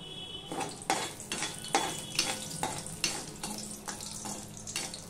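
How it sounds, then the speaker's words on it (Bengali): Whole garam masala with cloves, bay leaf and cinnamon tempering in hot oil in a pan, a steady soft sizzle broken by repeated scraping stirs at a regular pace, fairly close and alone. "এই গরম মশলার গোটা গরম মশলার ফোড়নটা হয়ে গেলে, গন্ধ বেরিয়ে গেছে।"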